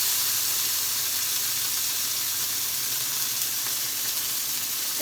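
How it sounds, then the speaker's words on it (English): Marinated elk steaks sear in a hot cast iron skillet, giving a continuous loud, close sizzle and hiss that holds steady throughout, with no voices. "transfer our elk steaks that are marinated onto the cast iron skillet, and I'm going to sear them"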